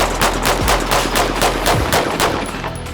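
Rapid automatic gunfire from a revived gun in a video game, emptying the last magazine in a fast, even stream of sharp, loud shots with no talking.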